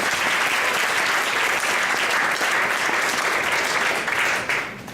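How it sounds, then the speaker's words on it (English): Loud, dense applause from a large crowd at a city council State of the City address in Mount Vernon, sustained evenly before tapering off at the end. "So let's give a big round of applause to the fire department."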